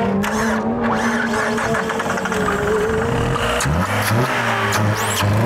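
A PT Cruiser rally car set up for Nitro Rallycross catches after stalling, its engine sputtering then settling into a steady loud idle with rising revs near the end, close by and alone without talk.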